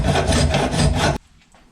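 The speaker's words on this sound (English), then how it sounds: "I'll start filing" A hand file rasps on a metal throttle body adapter plate in fast, loud, close strokes for about a second, then stops abruptly.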